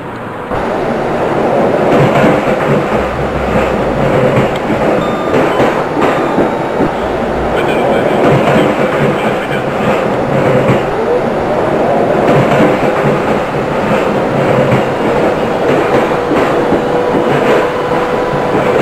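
Train running in Microsoft Train Simulator on the Vác to Budapest-Nyugati line in Hungary, a steady loud rumble with rhythmic clickety-clack of wheels on rails continuing throughout.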